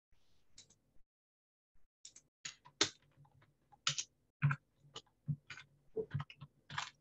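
Typing on a computer keyboard during a programming lesson, with irregular bursts of close, crisp key clicks, sparse at first and then quicker and denser, with no voices over them.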